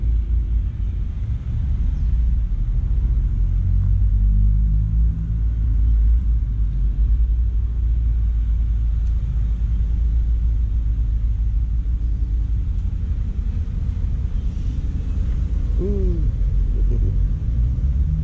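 Car engine idling and creeping through a parallel parking manoeuvre at a driving school, a steady low rumble that stays constant throughout, with a brief faint tonal whine near the end.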